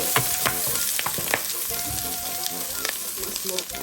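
Garlic cloves frying in a pan for pinakbet, a dense close sizzle with crackling pops and the scrape of stirring throughout.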